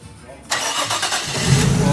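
Nissan R33 Skyline engine starts after a quiet moment. The starter cranks briefly, then the engine catches into a loud, rough, close idle that builds slightly; no one speaks over it.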